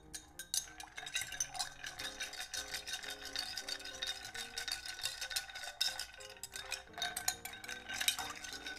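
A gin and Iris Blanco vermouth martini stirred in a mixing glass, with a steady stream of light clinking and swirling taps from the spoon against ice, close and continuous, with no talk.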